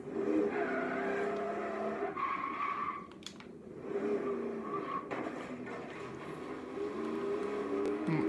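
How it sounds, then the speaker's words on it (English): A Ford Bronco in the racing game Forza 3 runs with a droning engine, then its tires squeal and skid under braking in a couple of bursts, loud and alone without talking. "Whoa, those brakes on this car suck."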